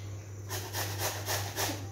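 Carrot grated fine, heard as a handful of soft, rhythmic rasping strokes close by, faint and steady, with no voices.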